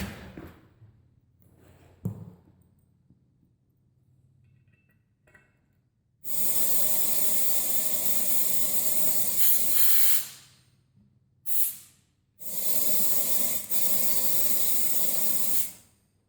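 Compressed air from a pressure tank blasts into a tire being mounted by hand, a loud broadband hiss in three bursts: a long steady rush, a brief puff, then another sustained blast, after faint handling noises.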